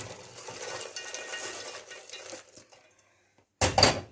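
Stale bread cubes stirred through melted butter in a pan for a vegan bread pudding, a utensil scraping and clinking against the pan in a steady close-up run, then a brief pause before a loud, sharp burst of clattering.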